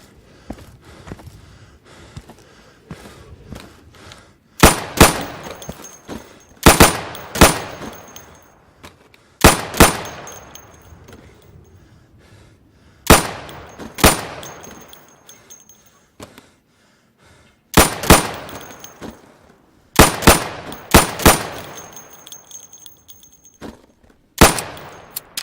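Sidearm gunfire at pop-up targets on a training range in the game Insurgency, sharp loud pistol shots in quick bursts of two to four, separated by short pauses and echoing tails.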